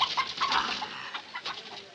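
A capon clucking close by in a short run of quick, throaty clucks with no talking.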